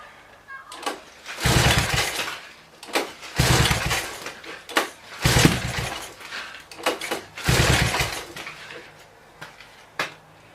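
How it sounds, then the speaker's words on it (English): A Honda three-wheeler engine under repair runs with its idle being turned up, surging in loud, uneven bursts of a couple of seconds each that drop back between them, close and with no talking. "Turn the idle up a little bit."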